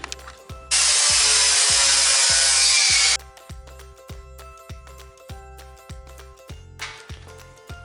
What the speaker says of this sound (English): It's a Diablo steel diamond grinding and polishing flat disc.